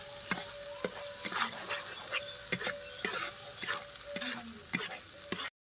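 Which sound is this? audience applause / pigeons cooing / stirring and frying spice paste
stirring and frying spice paste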